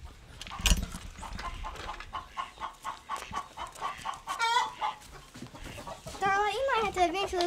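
Chickens on a farm cluck and cackle in bursts, fairly close, with a rooster's call near the end, under people talking.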